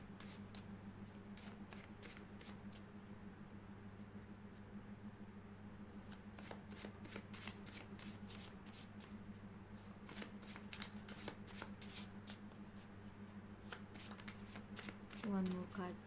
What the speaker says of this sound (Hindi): Let me shuffle the card.